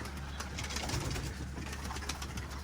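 Homing pigeons that have just landed coo softly within a steady wash of hiss and background noise, faint and continuous for a few seconds.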